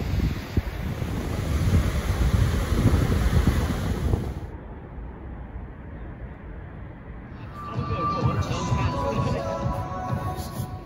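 Sea waves wash onto the seafront in Wales, a steady rushing roar buffeted by strong wind noise on the microphone, easing briefly in the middle before swelling again.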